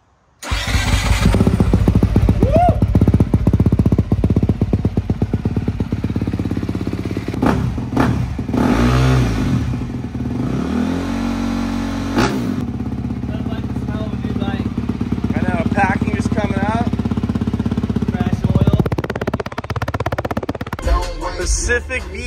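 Stainless steel motorcycle exhaust roaring loudly as the engine is revved hard, with sustained throttle blips and rising and falling engine note up close, while people talk and whoop over it.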